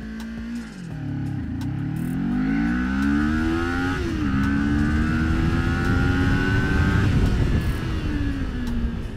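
Kawasaki Ninja 400 motorcycle accelerating hard on a runway during a 0-100 km/h speed test: engine revs climb in rising sweeps, dropping briefly at each gear change, loud and close throughout with wind noise and no talk.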